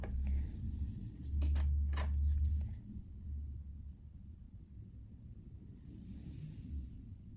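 Small scissors snip cuticles during a DIY BIAB gel nail overlay, giving a quick run of crisp, close clicks early on, then near silence.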